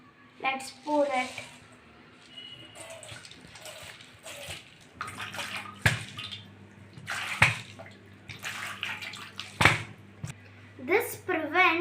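Water is poured and drained out of a container of soaking sprouts, intermittent splashing and trickling bursts at close range with a voice speaking throughout.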